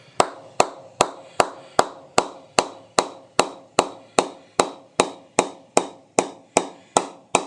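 A Super B3 Cricket Finch Pro cricket bat is tapped up by a ball or mallet from the toe, a steady run of about twenty crisp, evenly spaced knocks, close and loud.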